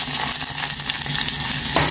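Carom seeds (ajwain) hit hot oil for a chole tadka, producing a dense, continuous, loud frying sizzle close by with a brief crackling flare near the end.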